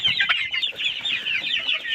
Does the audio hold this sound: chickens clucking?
yes